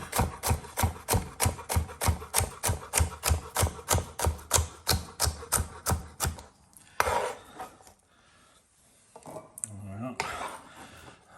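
A knife chopping celery on a board in a fast, steady run of sharp, even knocks for about six seconds, then quieter handling and a brief voice.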